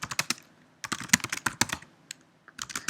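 Rapid typing on a computer keyboard, in a terminal session creating a new folder on a Linux System Z instance; close, crisp clicky keystrokes in quick bursts with short pauses, no talking.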